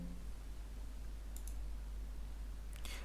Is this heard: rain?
no